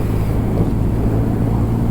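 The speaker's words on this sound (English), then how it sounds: "So we're in 6th gear, pootling along at 55, 57 miles an hour, 2000 RPM." Triumph Rocket 3 R 2500cc motorcycle engine cruising in sixth gear at about 55 mph and 2000 RPM, a loud, steady low rumble mixed with wind roar, continuous and close with no talk.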